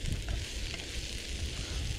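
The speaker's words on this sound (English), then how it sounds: "So I'm just frying these all down now." Potatoes, onions and mushrooms fry in a pan at an outdoor tarp camp, giving a dense, steady sizzle close up, with occasional soft stirring clicks and no talking.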